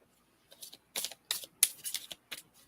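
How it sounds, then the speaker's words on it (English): Tarot cards shuffled by hand during a live reading, heard as a series of quick crisp riffling bursts and soft flaps in an uneven rhythm, close and fairly quiet. "Okay, go shuffle a little more."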